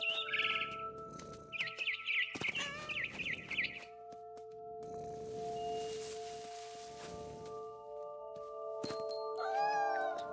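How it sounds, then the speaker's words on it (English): Barn swallow chirping in the game What Remains of Edith Finch, quick bursts of twittering near the start and again near the end, over a sustained musical drone and soft rustling. "Then I heard chirping outside my window. It was a barn swallow going back to her nest."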